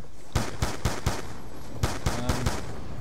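Gunfire in Black Ops 2 Zombies on the Mob of the Dead map: two quick bursts of sharp, close shots, four evenly spaced cracks followed by a pause and then four more, with no talk.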